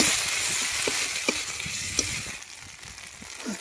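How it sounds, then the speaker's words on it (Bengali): Dried chilli paste and spice masala frying in a pan, a steady close sizzle with a few light scrapes and clicks of stirring, no voices. "লঙ্কা শুকনো লঙ্কা বাটা দিয়ে দেবো মশলাটাকে ভালো করে কষিয়ে নেবো"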